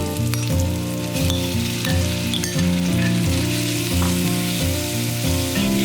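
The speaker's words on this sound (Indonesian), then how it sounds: "Bawangnya udah agak layu, kita masukin daging yang tadi." Meat and softened onion fry in plenty of hot oil in a wok, making a loud, steady sizzle with bubbling crackles close up and no talking.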